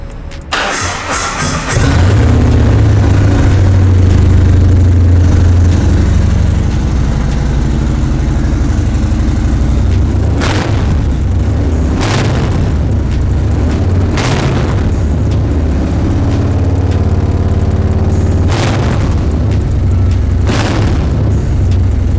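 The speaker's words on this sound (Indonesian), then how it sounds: "kenceng bener nih motor, geter bener." Harley-Davidson CVO Street Glide 2018 motorcycle engine cranking over and catching, then settling into a loud, close, deep idle punctuated by several sharp throttle blips and revs, with no talk over it.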